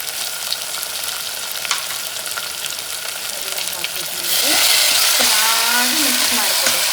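Ginger garlic paste hitting hot oil in a pan, a soft background crackle swelling abruptly into a loud, steady sizzle with faint stirring scrapes, up close.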